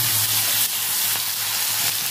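Chopped tomato and green chili sizzling in oil in a kadai, a loud, continuous close crackle that holds steady throughout, with no talking.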